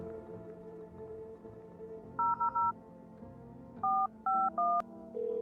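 Telephone keypad tones as a number is dialed in the video game No, I'm Not a Human: a few quick beeps, a pause, then several more evenly spaced tones over a quiet background hum.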